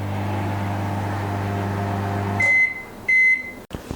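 A microwave oven hums steadily while running, then stops and gives two loud, sharp beeps in succession before a brief click.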